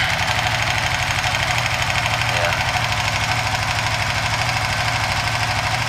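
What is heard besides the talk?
Suzuki FU 150 motorcycle engine cold starting and idling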